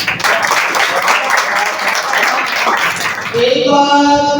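Audience applause at a school Independence Day program, a burst of clapping for about three seconds that gives way to a voice speaking over a microphone.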